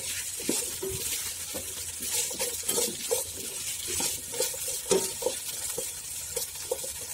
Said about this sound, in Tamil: போட்டுட்டு நல்லா இதை வதக்கி விடணும், நல்ல காய் வந்து நல்லா மிங்கில் ஆகிற லெவலுக்கு நல்லா வதக்கி விடணும்